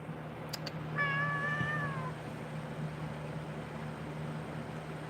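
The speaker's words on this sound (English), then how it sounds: "my cat's going to meow" A single drawn-out cat meow sounds close by after a couple of soft clicks, followed by quiet room tone.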